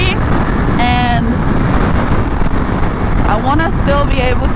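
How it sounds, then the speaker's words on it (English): Strong wind buffeting a helmet-mounted microphone while riding a 2021 Ducati V4 motorcycle, a loud steady roar filling the clip with faint engine whine rising and falling underneath. "So it's really windy"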